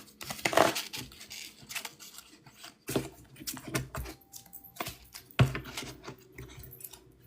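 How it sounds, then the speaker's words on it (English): Quiet, close crackling and flicking of cards being handled and shuffled in irregular bursts, with a few sharper snaps and no speech. "I'm going to shuffle again."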